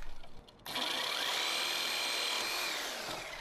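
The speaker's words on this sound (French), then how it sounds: "Nous détachons d'abord les chevrons de la panne supérieure en sciant les vis avec la scie récipro." Reciprocating saw cutting through screws fastening roof rafters to a purlin during an old roof structure renovation: a brief rough start, then a loud, steady high-pitched buzzing cut that holds for nearly three seconds before easing slightly.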